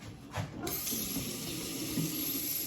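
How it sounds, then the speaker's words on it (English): Water running from a kitchen tap during handwashing, a steady close splashing rush lasting a couple of seconds with a brief gush at the start. "let me wash my hands"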